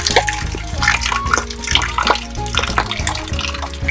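Water splashes and sloshes during outdoor bathing, with irregular pours and splatters that continue throughout, and voices talk nearby over the splashing.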